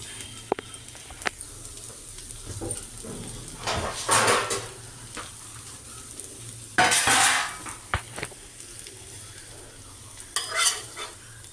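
A dosa is lifted off the pan and set on a plate, giving scraping spatula strokes and clinks of metal on the plate in short bursts over a low background hum, fairly close and moderate in level.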